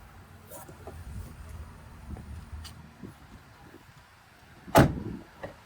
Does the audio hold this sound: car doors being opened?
yes